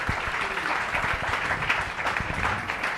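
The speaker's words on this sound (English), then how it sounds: "We should give him a round of applause." An audience at a Black Lives Matter faith panel gives a poet a round of applause, steady mid-loud clapping from a modest crowd that carries on throughout with no talk over it.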